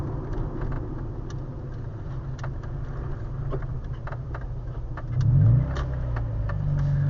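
A car with a newly fitted exhaust and manual gearbox drones steadily at low pitch while driving, then gives a brief, louder rev surge before settling into a continuous, rumbling engine note.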